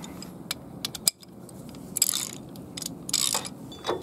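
Ratchet wrench with a 3/4 inch deep well socket working on a boat or utility trailer axle, giving scattered sharp metallic clicks and short rasping ratchet bursts, close and irregular, with no talking.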